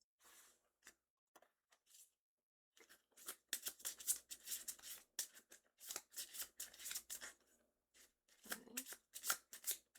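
A deck of tarot cards is shuffled up close in quick riffling bursts and soft slaps, stopping and restarting several times over roughly ten seconds.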